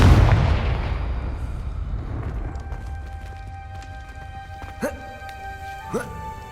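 A Confringo blasting spell explodes in the Hogwarts Legacy game: a loud opening boom that fades into a rumbling decay, followed by two short sharp magical bursts and ringing tones.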